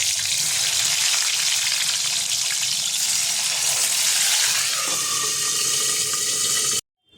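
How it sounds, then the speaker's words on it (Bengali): Eggplant slices fry in white oil in a kadai, a loud, steady, close hiss and crackle that carries on almost unbroken before cutting off abruptly at the end. "এর মধ্যে আমি বেগুনগুলো ভেজে নেব সবকটা বেগুন আমি লাল লাল করে ভেজে নেব"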